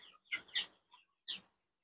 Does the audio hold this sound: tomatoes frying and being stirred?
no